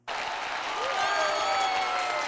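Canned applause sound effect played during a live music and gear stream: dense clapping and crowd cheering starts abruptly and runs loud and steady throughout.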